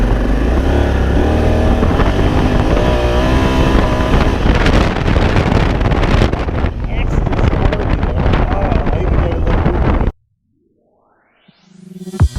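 A Kawasaki Z650 motorcycle accelerates hard through rising engine revs and gear changes, with heavy wind noise on the microphone. The sound cuts out abruptly near the end, then a brief rustle follows.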